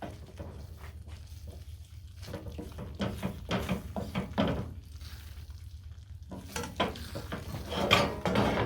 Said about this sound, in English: We'll add one more ladle full of stock.